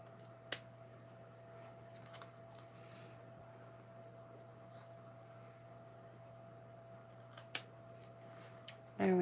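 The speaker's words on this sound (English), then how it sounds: "And then I'm going to trim that down." Scissors trim the ends of a tied knot during card crafting, with a couple of sharp, close snips against a quiet room hum, and another short burst of sound at the end.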